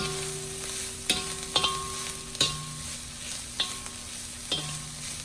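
Fried rice with Vietnamese pork sausage, Chinese sausage and cilantro is stir-fried in a pan over high heat. Brisk spatula scrapes and clanks come at irregular intervals over a constant loud sizzle.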